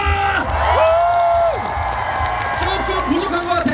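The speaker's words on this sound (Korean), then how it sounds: "자 그렇다면 다같이 박수와 함성!" A large crowd at an outdoor stage show during the 2023 Songdo World Food Festival cheers and whoops loudly, with high excited shouts rising over a steady roar that continues throughout.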